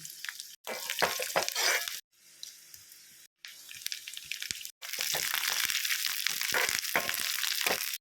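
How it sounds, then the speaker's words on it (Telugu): A tempering of spices and lentils sizzles in hot oil with dried red chillies and curry leaves added. Hissing, crackling frying comes in several separate stretches broken by short silent gaps, and the last stretch is the loudest and steadiest. "కొద్దిగా ఎండుమిర్చి కొంచెం కరివేపాకు కూడా వేసి పోపంతా వేపేయండి"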